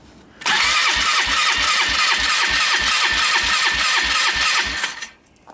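A Polaris ATV engine with its muffler removed starts up abruptly and runs loud and close, thumping in a steady, rapid rhythm for several seconds before cutting off.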